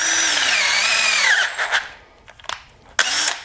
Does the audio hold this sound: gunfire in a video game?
no